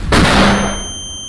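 A single loud gunshot in a GTA V roleplay game session, a sharp close crack with a ringing tail that fades over about a second.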